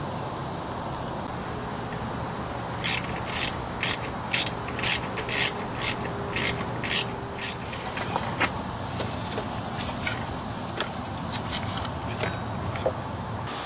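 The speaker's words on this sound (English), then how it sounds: "Now we can loosen up this tensioner right here." A hand tool works the belt tensioner on a Nissan Maxima, giving a series of sharp ratcheting clicks close by, followed by softer scattered clicks and rubbing against a steady background hum.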